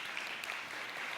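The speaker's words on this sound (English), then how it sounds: "You can feel free to applaud the organizers of this now." Brief burst of steady audience applause at a talk on urban vitality, a dense even wash of many hands clapping at moderate level with no one speaking.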